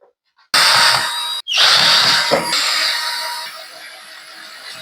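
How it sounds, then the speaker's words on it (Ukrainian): A power screwdriver backs self-tapping screws out of a refrigerator door: a loud, close, continuous whirring burst that cuts off briefly, then resumes and slowly fades in level. "Спочатку нам потрібно викрутити оці саморези."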